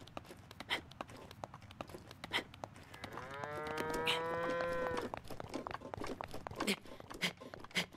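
A cow in the video game The Legend of Zelda: Breath of the Wild gives one long, loud moo mid-clip, surrounded by crisp footstep-like clicks and taps.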